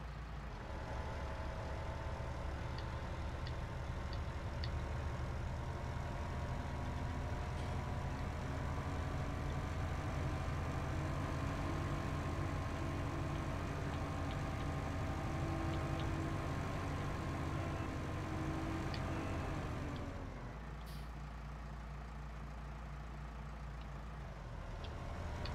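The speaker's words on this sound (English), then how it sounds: "Oh, this is a lovely tractor." Tractor engine running, a continuous low rumble held at a steady level that drops slightly near the end, fairly quiet and alone.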